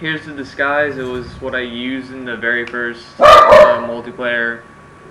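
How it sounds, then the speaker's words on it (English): A pet dog named Birdie lets out a loud, close bark burst partway through, cutting across someone speaking steadily before and after. "Sorry, that's my dog."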